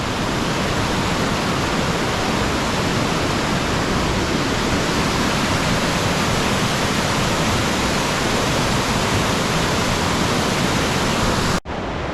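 Loud, steady rushing water of a river swollen after heavy rain, near Toorongo Falls, Noojee, Victoria, roars without a break, a broad continuous wash of sound that cuts off abruptly at the very end.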